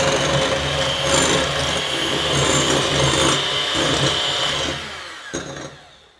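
An electric mixer whips meringue mixture at a steady medium speed, giving a loud, continuous close-up whir with a rattling edge that fades and stops just before the end.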